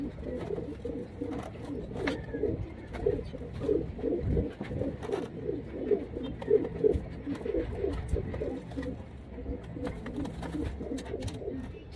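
Racing pigeons at a training loft in Talavera, Nueva Ecija coo continuously in a soft, rhythmic chorus of overlapping low calls, with faint background noise and occasional louder bursts.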